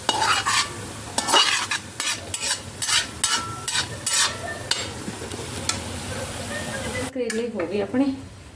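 Bitter gourd peels roasting in a pan on the stove are stirred in a steady run of scraping strokes over a soft continuous sizzle, close and fairly loud, with a brief voice near the end.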